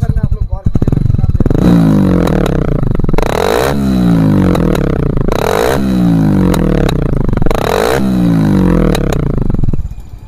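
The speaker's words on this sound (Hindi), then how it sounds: "बाइक में साइलेंसर में हम लोगों का फटर फटर आवाज़ आ रहा है, फटर फटर" A motorcycle engine idles loudly with a rough, uneven sputter from the silencer, pulsing in repeated surges over about ten seconds, close by.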